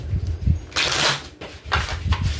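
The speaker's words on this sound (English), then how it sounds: "too much shuffling, too much bullshitting" Tarot cards are shuffled by hand in close, brisk riffling bursts separated by short pauses, with a few soft taps between them.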